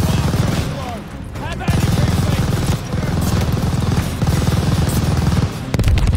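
Sustained machine gun fire in Call of Duty Vanguard's Operation Tonga mission, set in Merville, France, 1944, with long rattling bursts separated by short pauses, loud and near, mixed with battle noise and shouted voices.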